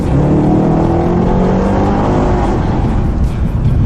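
Chevrolet SS Sportback V8 engine accelerating hard under heavy throttle, a loud, close, continuous roar with rising harmonics that swells through the pull and holds steady to the end.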